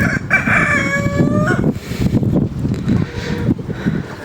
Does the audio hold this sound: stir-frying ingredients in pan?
no